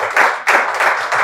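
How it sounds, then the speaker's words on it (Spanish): Brief burst of close, dense hand clapping from a crowd, steady and lively throughout. "Demos un fuerte aplauso"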